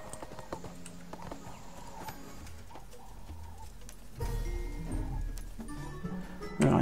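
Horse hooves clip-clopping in the ArcheAge video game, a quiet irregular patter of hoofbeats alongside game sounds that swell louder midway, with no talk.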